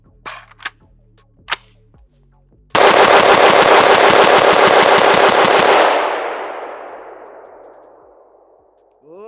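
An ATI Omni rifle fires a long, rapid string of shots, emptying a magazine in one loud, close burst after a few earlier clicks and clanks, then the echo fades away slowly.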